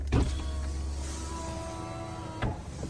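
Automatic power window on a 2016 Fiat 1.2 Lounge running its motor for about two seconds, a steady whirring hum with a clunk as it starts and another as it stops at the end of travel.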